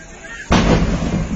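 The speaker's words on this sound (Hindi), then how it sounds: "आप देख सकते हैं, एक के बाद एक धमाका।" A sudden loud blast on the Jaipur-Ajmer highway bursts in after a quiet moment and rolls on as a sustained, heavy roar, close and dominant.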